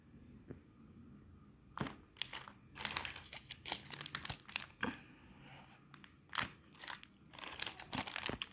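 A small plastic bag holding 925 silver earrings is crinkled and handled up close, producing irregular bursts of sharp rustling and crackling separated by brief quiet pauses.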